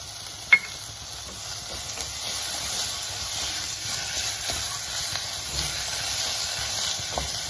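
Two small chopped tomatoes sizzle in a hot pan for a liver roast, giving a soft, steady hiss with one sharp click near the start and no talking.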